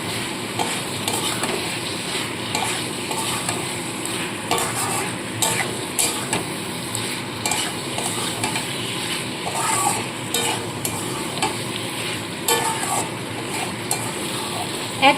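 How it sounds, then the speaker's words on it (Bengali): Fried potatoes and pointed gourd are stirred into cooked spices in a pan, a continuous close sizzle with repeated scraping strokes of a spatula; no one speaks. "তো এইবার আমি ভেজে রাখা আলু ও পটলগুলো এর মধ্যে দিয়ে দেবো মশলার সাথে খুব ভালো করে মিশিয়ে নিতে হবে"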